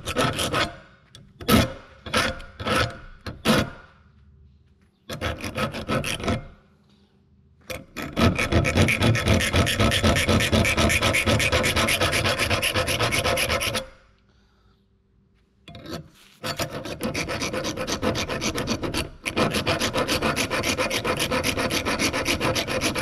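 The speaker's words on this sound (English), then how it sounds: "I guess we'll try it with a file" A metal file sharpens a knotter part from an Oliver 720 small square baler clamped in a vise. Close, harsh rasping comes first in quick short strokes, then in long sustained passes with brief pauses between.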